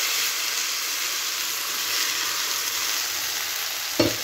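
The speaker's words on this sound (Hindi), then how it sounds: "अच्छी तरह से दूध के साथ फिर अच्छी तरह से भून लेंगे इसको एक बार।" Moong dal halwa, a sweet of lentils roasted with milk, sizzles and bubbles steadily in a hot pan, a continuous close frying hiss with a brief scrape of stirring near the end.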